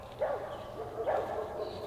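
A dog barks near a horse paddock, two faint yips set against quiet outdoor background noise.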